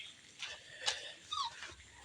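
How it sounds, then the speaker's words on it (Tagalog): A dog whimpers in short, thin high whines, fairly close, over a soft background hiss. "Ito pa, ang aking aso."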